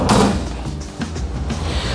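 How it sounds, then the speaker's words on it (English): A table slides out of a drawer in a campervan, a short scraping, rumbling slide with a few knocks and clicks, close and fairly loud, with no talking. "There's a latch, and the table slides out with all your things on top there"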